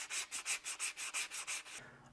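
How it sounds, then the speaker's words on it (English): Sandpaper rubs back and forth along the leading and trailing edges of balsa model rocket fins, about nine brisk even strokes close by, then the scraping stops. "I've finished sanding the leading and trailing edges of all 6 of my fins"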